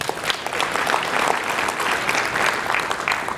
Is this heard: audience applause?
yes